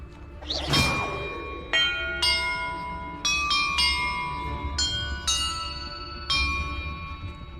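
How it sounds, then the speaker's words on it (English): Church bells in the video game Hogwarts Legacy ring one after another, about seven bright metallic strikes at irregular intervals, each ringing on and overlapping the next, above a low ambient background with a whooshing swell at the start. "Perhaps the map contains clues about the order I'm supposed to ring the bells in."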